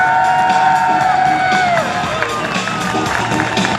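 An airshow crowd cheers and whoops for parachute jumpers of the US Army Golden Knights coming in to land, loud massed shouting with some clapping, close and continuous.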